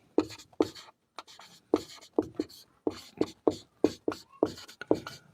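A pen scratches out a class 10 maths problem in short, rhythmic strokes, about a dozen distinct bursts with brief gaps, close and clear with no talk over them.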